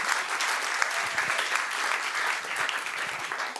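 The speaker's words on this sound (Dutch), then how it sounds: "Ik denk dat dit een goed moment is om Thijs een hartelijk applaus te geven." Steady audience applause at a lecture event, a dense continuous patter of many hands clapping at moderate volume throughout with no voices.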